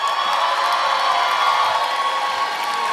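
A crowd at a drag-themed Gong Show evening cheers and claps continuously, a loud mix of shouting, whoops and applause blending into a sustained roar throughout.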